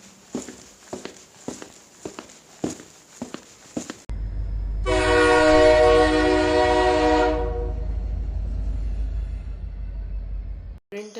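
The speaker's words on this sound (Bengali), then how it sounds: "ট্রেনটা ঠিক সময় মতোই এসে পৌঁছালো" A cartoon train pulls into a station: a run of rhythmic clacks first, then a sudden loud, bright horn blast over a deep rumbling engine that keeps going after the horn stops, ending abruptly.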